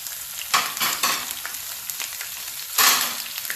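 Ginger, garlic, green chillies and cumin fry in hot oil for a daal tadka, a close hiss with louder bursts as they are stirred around the pan.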